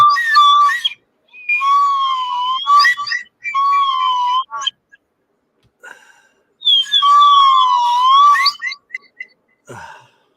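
A shrill, warbling Indonesian whistle blown in several long bursts with short gaps, loud and close, fluttering up and down in pitch.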